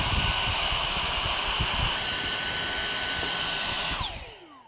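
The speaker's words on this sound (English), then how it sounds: "To clean these, simply use a handheld vacuum or a brush to remove any dirt." A handheld vacuum cleaning a Samsung fridge's condenser coils runs with a loud, steady high-pitched whine, then switches off and its motor spins down over the last second.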